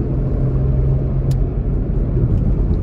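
Renault Kwid car cruising on a highway in fourth gear, a steady low engine and road rumble filling the cabin, continuous and fairly loud with no talking.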